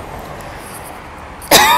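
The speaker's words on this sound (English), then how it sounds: "That cough is from getting targeted." A single sharp, loud cough bursts out near the end after a stretch of quiet room hiss, close to the microphone and followed by a short trailing rasp.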